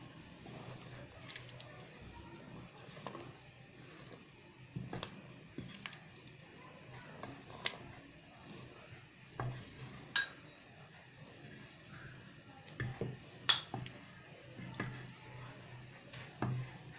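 A metal spoon stirs thickening chicken vegetable soup in a pot, giving soft scattered clinks and wet squishing taps at an irregular pace, fairly faint against a quiet kitchen background.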